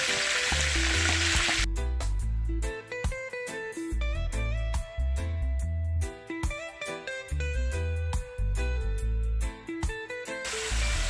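Green onion, garlic and onion sizzle in a pan for a Jamaican stewed turkey neck. The frying hiss is clearest at the start and end, with loud rhythmic music over the middle.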